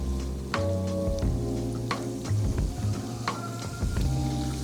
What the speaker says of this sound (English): We're gonna fry these at 180 degrees. So we're just gonna drop a couple in at a time.